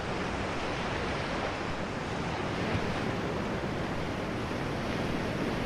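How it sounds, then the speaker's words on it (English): Deep ocean waves roll in a steady, broad wash of surf, loud and continuous with no pauses and no voices, a low rumbling roar running through the whole stretch. "Some deep waves placed over here."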